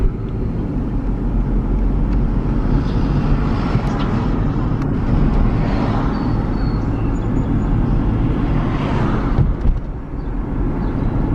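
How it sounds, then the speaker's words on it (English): A car drives east through a small Virginia town past restaurants, a gas station and motels, giving a steady, loud interior engine and road rumble that holds throughout with little change and no talk. "We're driving east now."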